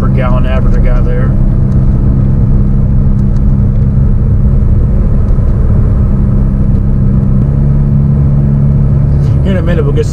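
A Hyundai Veloster Turbo engine pulls hard under full throttle with a loud, continuous cabin drone and heavy road rumble. Voices talk over the engine at the start and end of the pull.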